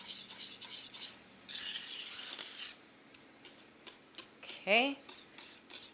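Custard filling for galaktoboureko stirred in a pot, giving soft scraping and rubbing strokes with light utensil clinks and a brief squeal near the end, as a voice speaks briefly.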